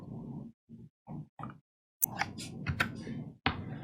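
Computer keyboard presses on the Ctrl and R keys: a few sharp, close clicks scattered over a low murmuring background, with no clear talk.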